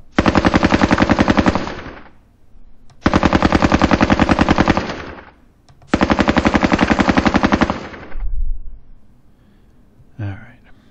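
An RPK machine gun fires in a Soviet-Afghan War video game, three long loud automatic bursts of roughly two seconds each with short gaps between them, followed by a couple of faint distant thumps.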